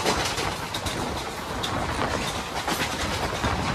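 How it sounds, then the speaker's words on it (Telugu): A passenger train for Tirupati pulls into a station with a continuous rolling rumble and rhythmic clattering of wheels over rail joints, along with a few faint bird calls in the background. "తిరుపతి ట్రైన్ అయితే వచ్చేసింది ఇప్పుడు."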